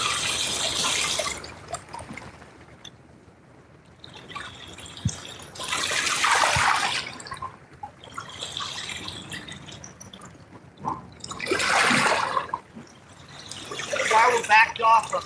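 River waves from a passing barge's wake wash ashore in repeated splashing surges, each swelling and fading over a quieter lull, while someone talks between them.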